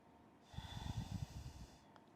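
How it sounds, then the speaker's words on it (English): A single slow, deep breath during restorative yoga, a soft close airy exhale lasting about a second and then fading into quiet. "We'll just take a couple more breaths here."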